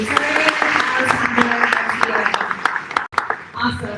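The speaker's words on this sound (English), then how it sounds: "Can we clap one more time for our students?" Applause for fifth grade students at a school graduation ceremony, a busy patter of clapping mixed with crowd noise and talk, briefly cutting out near the end before resuming.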